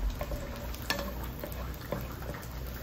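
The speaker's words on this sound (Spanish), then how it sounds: "Revolvemos bien para que no se nos queme el ajo, tiene que dorarse." Garlic fries in a pan while it is stirred, making a steady low sizzle with occasional light scraping taps from the utensil. The sound is fairly faint and close.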